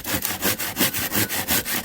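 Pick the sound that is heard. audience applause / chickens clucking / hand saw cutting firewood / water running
hand saw cutting firewood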